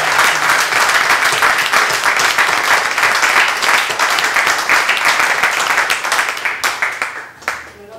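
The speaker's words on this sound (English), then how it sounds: "I think we owe a big round of applause to Brett Underwood" Audience applause at a Day of the Dead Beats poetry reading: dense, steady clapping from a crowd that runs at full strength for several seconds, then thins out and tapers off near the end.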